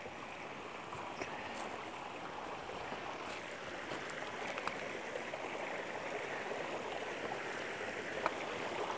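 A mountain stream flows beside a steep trail over Peter's Mountain, a steady, even rush of water close to the listener, with no talking.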